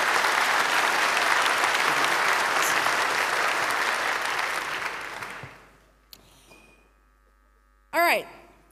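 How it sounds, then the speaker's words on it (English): A large hall audience at the 28c3 hacker conference gives a long, loud round of applause for the speakers before a security talk. The clapping fades out after about five seconds, followed by a quiet room, a click and a brief rising electronic tone. "give them the huge round of applause"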